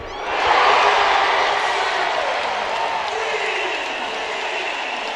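A basketball arena crowd roars and cheers after a three-pointer in a women's college game in Columbia, a loud surge that swells early then holds as a sustained wash of noise.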